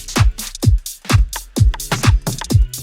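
A dry, unprocessed electronic drum loop from a music track, with deep punchy kicks and snappy hits in a steady mid-tempo pattern, close and clean.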